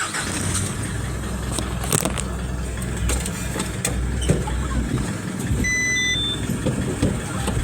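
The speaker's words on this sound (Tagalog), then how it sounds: "Okay, atras ko yung truck." A truck engine runs steadily at a low rumble while the truck reverses, with a few faint high beeps toward the end and some distant background clatter.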